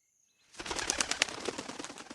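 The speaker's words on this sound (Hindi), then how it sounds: "दो बड़े बड़े उल्लू हवा में परवास करते हुए सामने की डाल पर जा बैठे।" A burst of rapid wing flapping from two large owls starts after a brief quiet and continues steadily, loud and close, as they take flight.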